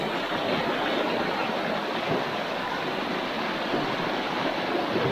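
Continuous broad rush of a flowing water current, steady and fairly close, with no voices over it.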